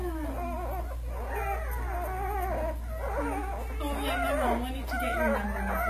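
A female street dog whimpers and whines in repeated rising, wavering cries, close by, over a low steady hum.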